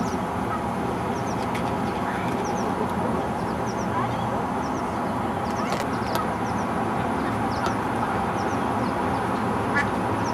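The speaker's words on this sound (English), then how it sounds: "Look at the baby ducks." Ducks and baby ducks quack repeatedly on the water near a boat, in short scattered calls over a steady wash of motor and water noise, with voices faint in the background.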